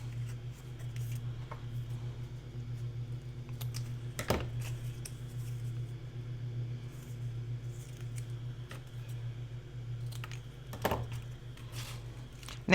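Construction strips being cut for a storage box, heard as a few sharp, crisp snips that stand out over a steady low hum, spaced several seconds apart.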